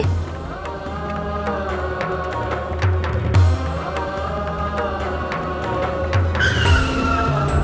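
A car's tires skid and squeal along a road, loud and continuous with engine rumble underneath, the screech swelling toward the end.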